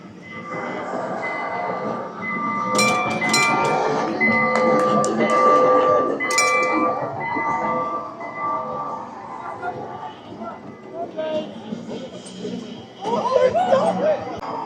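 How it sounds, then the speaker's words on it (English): A small train ride on a seaside pier passes along its rails with a rolling rumble and some wheel squeal, close by, while people talk and chatter over it. "There's the little train coming down."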